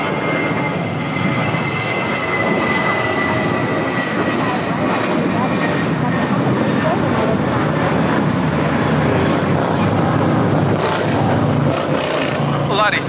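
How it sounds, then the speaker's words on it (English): Airbus A320 airliner taking off at Los Angeles airport, a loud, sustained broadband engine roar filling the scene steadily, with a person talking over it. "taking off Zacatecas on the Airbus 320"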